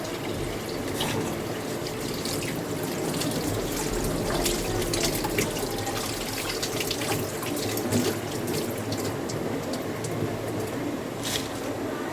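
Food rinsed by hand under a running kitchen tap into a sink, with steady splashing and gurgling water that runs without a break for about twelve seconds. No one speaks.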